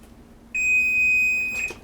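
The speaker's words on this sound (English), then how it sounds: "There's my timer." A kitchen timer goes off during cooking: one steady, piercing electronic tone that starts abruptly and holds for over a second, close and clear in a quiet room, with no talking.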